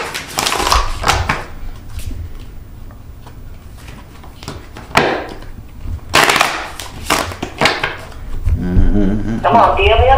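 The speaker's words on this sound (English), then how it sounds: "Get these cards a couple shuffles" A deck of tarot cards being shuffled, with sharp riffling bursts and clattering card sounds scattered through the stretch at close range.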